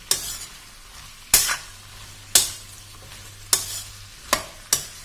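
Ivy gourd and onion curry fries in a pan with a steady soft sizzle, punctuated by five or six distinct scraping stirs of a spoon at roughly one-second intervals.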